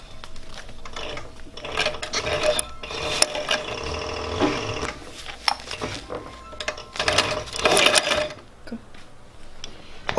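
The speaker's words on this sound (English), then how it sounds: "so I just threaded the sewing machine" A New Tech industrial sewing machine works through thick, folded two-layer fabric, giving irregular bursts of clunking and rasping stitching close by, with pauses and handling noises between runs.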